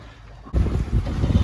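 Wind of about 11 knots rushes over a sailing catamaran, a sudden loud broadband gust of buffeting air that swells after a quieter start, with water wash beneath.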